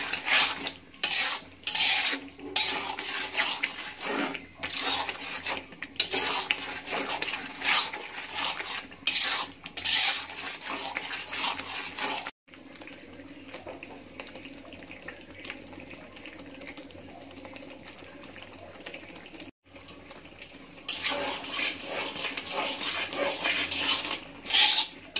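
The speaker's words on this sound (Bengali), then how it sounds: "মশলাগুলো ভালো করে একটু কষিয়ে নিব" Spices for olive pickle being fried and stirred in a pan, with repeated rhythmic scraping strokes of a spoon over a soft sizzle, pausing midway and then resuming, close and without talk.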